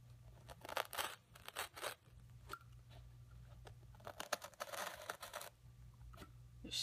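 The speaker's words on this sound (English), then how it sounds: "we are just going to cut this damaged section out" A sharp utility knife cuts out a burned section of indoor-outdoor carpet, producing quiet, close bursts of scratchy tearing and slicing with short pauses between strokes.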